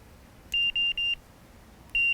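A carp fishing bite alarm receiver gives a run of three sharp electronic beeps, then one more after a short pause. Each beep is loud and close against a quiet background.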